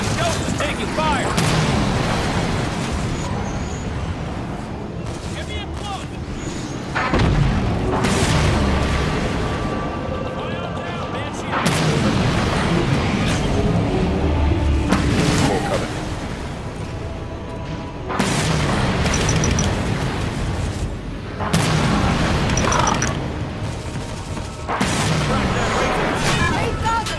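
Rapid gunfire bursts and heavy explosions ring out in the Halo 5 Guardians video game, loud and dense, with repeated booms and chatter of weapons while combat voices shout over the battle.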